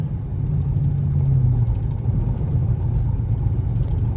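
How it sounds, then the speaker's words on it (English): A car drives with a low, steady engine rumble and a faint rattling vibration underneath from a bad exhaust rattle, close and continuous with no talking. "I got a really bad fucking exhaust rattle right now"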